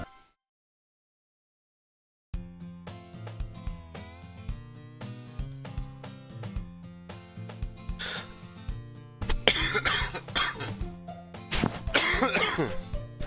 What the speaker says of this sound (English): I'm in this annoying cough.